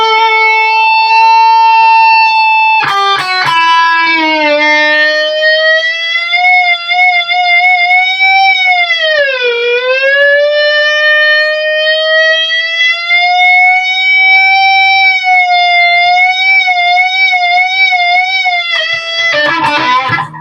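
An Ibanez RG60ALS electric guitar with its built-in sustainer holds a bright, pure tone that swoops and wavers like a police siren, rising and falling for about twenty seconds with brief plucked attacks at the start and end.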